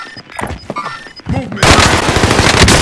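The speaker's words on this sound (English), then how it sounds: "Enemy firing at me." Enemy gunfire crackles in Call of Duty: Modern Warfare, starting with scattered sharp shots and a brief voice, then breaking into a dense, loud burst of rapid automatic fire.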